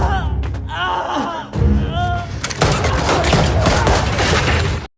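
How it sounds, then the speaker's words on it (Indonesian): A gangster film shootout opens with gasps and cries, then a dense, continuous burst of loud gunfire fills the scene. "terjadilah baku tembak"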